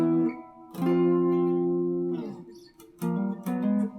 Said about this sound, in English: So I'll just play that part slowly for you.